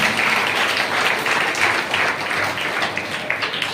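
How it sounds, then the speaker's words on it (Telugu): A church congregation claps in praise during a sermon, a dense, loud, continuous patter of many hands filling the short stretch without pause. "చప్పట్లు కొడుతూ దేవుని మహిమపరుస్తా."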